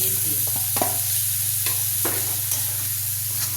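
Onion and tomato frying in oil in a pan with steady loud sizzling, interrupted by several scraping stirs of a spoon against the pan, close up and without voices.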